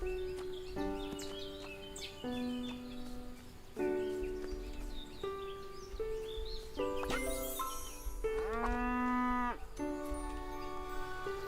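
A cow in the video game Everdream Valley moos repeatedly, with several drawn-out calls set against light game music and occasional bird chirps.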